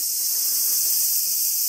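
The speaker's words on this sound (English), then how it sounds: "It's really loud from all the cicadas." Cicadas on a farm in Japan, a loud, steady high-pitched buzzing drone that runs unbroken and dominates everything else.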